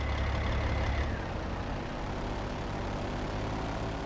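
A CAT 3176A diesel truck engine in a trucking simulator rumbles low and steady, then the deep idle drops away as it shuts down, leaving a softer lingering hum.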